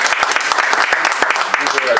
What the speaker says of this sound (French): Applaudissez-les encore pour la...